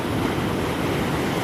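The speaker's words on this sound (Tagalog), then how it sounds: "Natunong jud og dagko kayong balod usahay" Ocean surf washing steadily against a rocky shore while swimming in the sea, a continuous broad roar of breaking waves with wind noise on the microphone, no voices.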